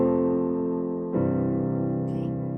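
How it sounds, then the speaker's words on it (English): Sustained piano-like chords in a plagal cadence, a IV chord moving to the I chord, the Amen cadence, the change landing at about the midpoint, played fairly loud and clear with no talk. "and that is chord 4 to chord 1, sometimes called the Amen cadence."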